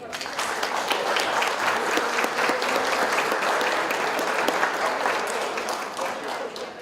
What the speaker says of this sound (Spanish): les voy a pedir a los demás que por favor les brindamos un aplauso